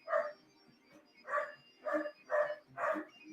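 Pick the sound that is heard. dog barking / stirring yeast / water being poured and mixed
dog barking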